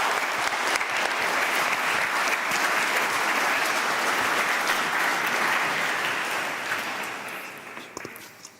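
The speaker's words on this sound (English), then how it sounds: "Can we have another round of applause, please," Sustained audience applause at a conference, a dense clapping crowd filling the room for several seconds before tapering off to a few scattered claps at the end.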